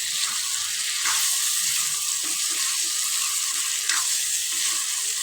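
Cauliflower curry for a restaurant-style gobhi sabzi sizzles loudly and steadily in a hot pan, while a spoon scrapes and stirs with occasional clicks against the metal.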